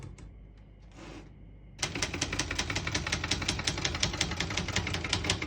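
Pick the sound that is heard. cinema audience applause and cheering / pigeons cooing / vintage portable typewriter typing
vintage portable typewriter typing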